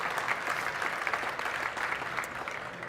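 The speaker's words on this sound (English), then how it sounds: "Let's give it a round of applause." Conference audience giving a round of applause at a visual-effects talk, a steady, moderately distant wash of many hands clapping for a few seconds with no speech over it.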